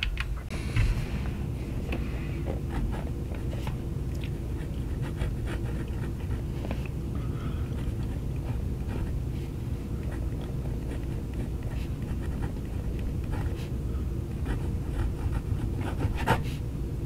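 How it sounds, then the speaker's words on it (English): A Kaigelu 316 Sparkle fountain pen writes on paper in a quiet room, giving a steady, faint nib scratch that runs on for the whole stretch, with a few soft knocks and no talking. "Let's put some ink on paper."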